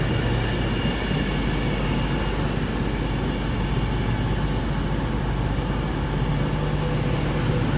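A Class 390 Pendolino on the West Coast Main Line pulls into Stafford station, giving a loud, steady rumble of wheels and traction noise that holds for the whole stretch without fading.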